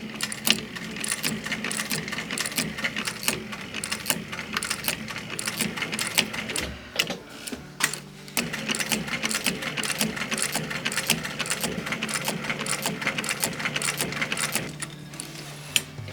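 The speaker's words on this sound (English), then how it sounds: "I'm gonna sew it down like this" A sewing machine stitches down the lining of a DIY leather bag, running in a steady, continuous whir with rapid needle ticks that pause briefly partway through before resuming.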